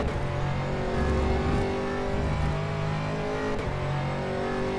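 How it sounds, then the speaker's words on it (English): Aston Martin GT3 race car engine on track at Virginia International Raceway in a racing game, a steady loud drone with a brief rise in revs, continuous and close throughout. "Driving the Aston Martin GT3 for Zansho"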